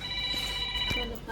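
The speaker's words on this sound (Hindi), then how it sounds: "अरे फ़ोन किसका आ रहा है?" A mobile phone rings with a steady electronic tone through a short, busy outdoor moment, sounding at moderate loudness over background noise and traffic-like rumble while people are about to head off on scooters and in a cab.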